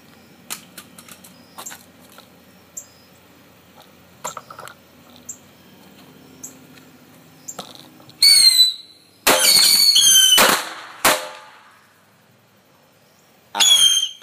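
A homemade bottle rocket swarm grenade going off after faint early crackles, then loud bursts of shrieking, whistling rockets and sharp pops in several rushes with short gaps between them.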